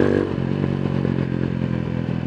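Mojo 200 motorcycle with the catalytic converter deleted idles close by, giving a loud, steady, rumbling exhaust note with slight clattering pulses and no talk over it.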